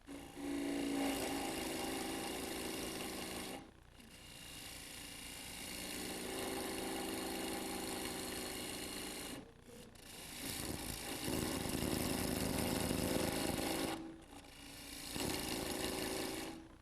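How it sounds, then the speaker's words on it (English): A wood lathe spins a cake plate blank while a tool cuts grooves into it, giving steady rasping scrapes in long passes broken by short pauses. "You can make as many grooves or as deep as you want."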